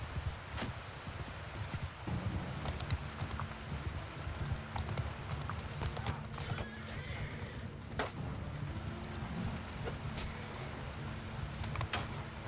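Horse hooves clop steadily in a video game over a wet, rainy background with rustling, some sharp knocks and clicks scattered throughout.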